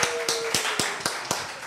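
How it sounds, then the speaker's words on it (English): Scattered, sparse claps from a small group at a hospitality college culinary demonstration, about six distinct sharp strikes spaced irregularly rather than a full round of applause, fairly close, with no talking. "give him a round of applause for that"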